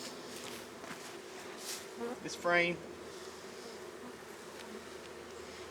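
Honeybees buzz steadily around an open brood box during a hive split, a close, even hum with one louder wingbeat sweeping past mid-clip, and a voice speaks briefly.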